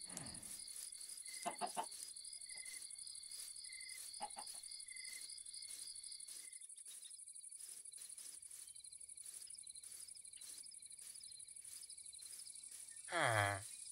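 Chickens in a hardcore Minecraft world give a few short clucks early on, set against constant cricket chirping; a voice briefly cuts in at the end.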